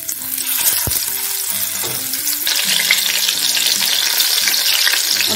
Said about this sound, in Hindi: तेल हमारा गर्म हो चुका है और अब हम इसमें परवल को डालेंगे।